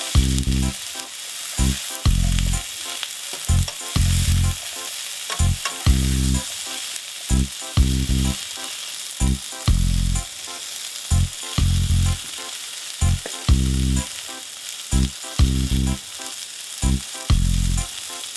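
Gnocchi sizzling in a single pan with salmon, vegetables, pepper and spices, loud close frying punctuated by regular bursts of stirring and scraping, with no talking.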